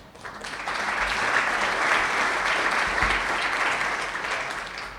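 An audience at an evening event applauds board members, a sustained wash of clapping from many hands that swells and holds steady, fairly close, with no voices over it.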